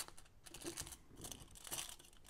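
Aluminium foil crinkled by hand, a soft dry rustle in several close, irregular bursts with brief pauses between, no voices.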